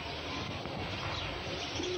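Pigeons coo softly in a loft, a low, muffled murmur set against constant background hiss for about two seconds.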